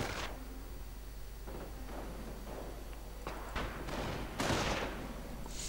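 Sniper and infantry gunfire in a strategy video game: a dense battle din of overlapping shots and bursts, several louder cracks rising toward the end, moderately loud and continuous.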